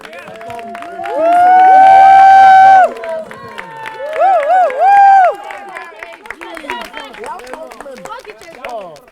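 A crowd at a house music finale cheers loudly, with prominent sustained shouts and whoops standing out over scattered clapping and chatter, swelling in two bursts before settling into a busier, lower hubbub.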